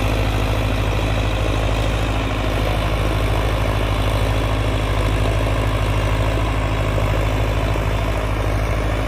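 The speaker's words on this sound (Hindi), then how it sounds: "जबरदस्त चल रहा है ट्रैक्टर" A Sonalika Tiger 55 DI shuttle-gear tractor's diesel engine runs loud and close in a steady, unbroken low drone, thrumming evenly throughout with no speech over it.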